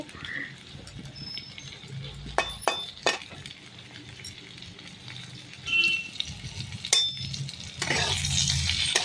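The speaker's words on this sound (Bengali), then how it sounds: "পটল লাল লাল করে ভেজে নিয়েছি" Pointed gourd frying in oil in a pan, a steady low sizzle broken by sharp clinks and scrapes of a utensil against the pan, with faint voices in the background.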